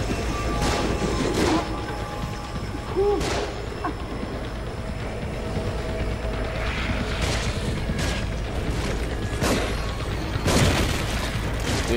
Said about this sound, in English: Ah, they are shooting!